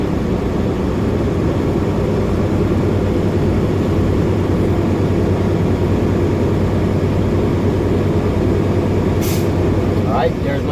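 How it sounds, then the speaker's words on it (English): A truck engine is revved to build air-brake pressure up to governor cutout, a loud, constant drone that fills the whole stretch, with a brief sharp air hiss near the end. "So I'm gonna rev it back up until I get governor cutout again."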